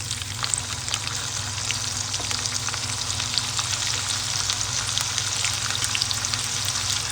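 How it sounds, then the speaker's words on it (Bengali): Cumin seeds and chopped ginger sizzle steadily in hot oil for a jeera rice dish, a dense, even crackle with a low hum beneath and occasional stirring taps, close and continuous, no talking. "তেল গরম হয়ে গেছে, এর মধ্যে দিয়ে দেবো 1 চা চামচ পরিমাণ জিরে"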